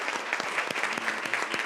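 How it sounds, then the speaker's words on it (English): Conference audience applauding in a steady, even patter of many hands clapping, moderately loud and continuous throughout. "I think we should all kind of give Chick a round of applause."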